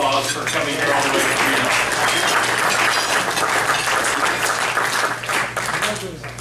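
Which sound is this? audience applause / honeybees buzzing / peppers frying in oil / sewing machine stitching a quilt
audience applause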